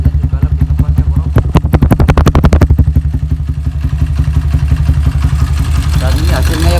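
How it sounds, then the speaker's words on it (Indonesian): A motorcycle fitted with an Edo camshaft revs through its exhaust up close, with a run of sharp, rapid popping throttle blips followed by a rough, loud idle, while someone talks over it. "Untuk suara knalpotnya juga lebih ngepas ya bro."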